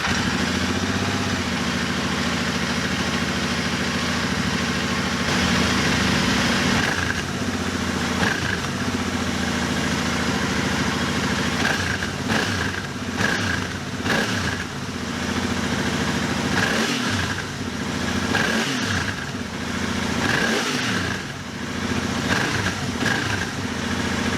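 Royal Enfield Interceptor 650 motorcycle engine running steadily at a deep, throaty idle, then blipped through several short revs that rise and fall, loud and close, with no talking.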